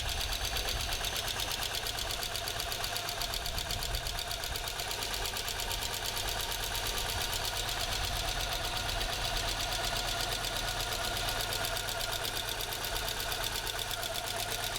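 A 1987 Audi 5000 S engine idling, a steady mechanical hum with a fast ticking, knocking rhythm, close and continuous with no talking.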